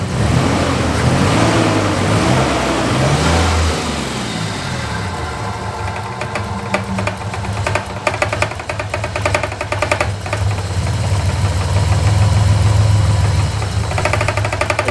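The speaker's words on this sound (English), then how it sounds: "If you see when Ray pinches the return fuel line, the idle increases." A 1986 Nissan 300ZX engine idling lazily and unevenly, a steady close low drone with a rough, ticking pulse and wavering speed that dips and rises over the stretch.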